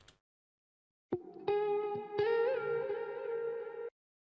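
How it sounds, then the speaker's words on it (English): A sustained electric guitar note with heavy reverb and delay bends up one semitone and settles back, ringing before cutting off. "this bend right here, which goes up like one semitone and then back down"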